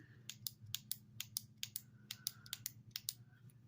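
Rapid mechanical switch clicks from a Klarus P20 flashlight, about fifteen sharp, close, dry snaps at uneven intervals, some quick and some slower, over a low steady background hum.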